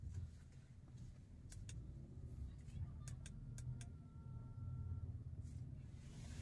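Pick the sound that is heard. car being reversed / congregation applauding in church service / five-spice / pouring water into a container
car being reversed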